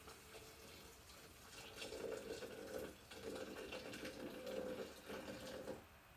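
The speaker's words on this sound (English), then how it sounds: "Pour water over the coffee grounds." Hot water is poured slowly over coffee grounds in short pulses, giving a quiet, close, splashing trickle that starts and stops a few times with no talking.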